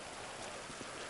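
Rain falls steadily in GTA Online on PS5, a constant soft hiss of drops with no other sounds.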